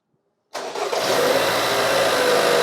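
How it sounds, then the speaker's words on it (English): A car engine cranks and catches after a short silence, then settles into a steady, loud idle during an alternator charging test with a battery tester. "Start the car."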